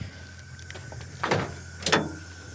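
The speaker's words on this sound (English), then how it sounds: "So you open up the door." A 1974 Chevy Camaro door is opened, giving two faint mechanical clunks about half a second apart over a quiet background hum.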